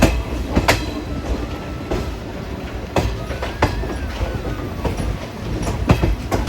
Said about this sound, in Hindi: अभी अपनी ट्रेन समस्तीपुर जंक्शन पहुंच गई है।